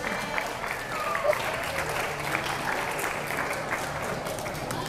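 An audience at a motivational talk applauds, a steady wash of many hands clapping at a moderate distance that holds evenly throughout, with faint crowd murmur underneath.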